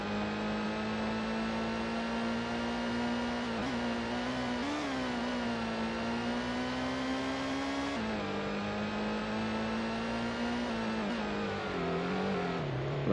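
A Toyota Supra RZ engine in Gran Turismo holds a strong, steady drone at sustained revs, with its pitch rising and dropping slightly through gear changes over a long continuous run.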